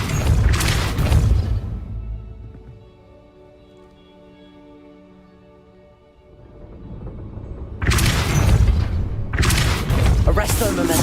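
Heavy blasts from a Depulso spell cast in a wizard video game: loud, booming bursts open the stretch, then a quieter tonal lull follows before more forceful blasts return near the end.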